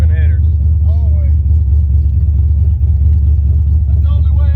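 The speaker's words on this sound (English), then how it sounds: "You ain't got no exhaust, do you? Nope. It's always open headers." An 88 Silverado with a carbureted, nitrous-fed 6.0 swap runs on open headers with no exhaust, a loud, deep engine drone heard from inside during a ride along, with people talking over it.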